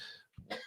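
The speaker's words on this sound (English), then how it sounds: "I hate when the coughing hits." A person coughs in a short harsh burst, a brief pause, then a second louder cough, close and alone with no talk.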